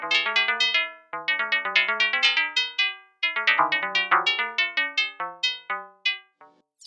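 A bright bell tone played on an Arturia MicroFreak synthesizer, a quick melodic run of plucked, chiming notes with sharp attacks and short decays, several pauses between phrases, clear and up close with no talk.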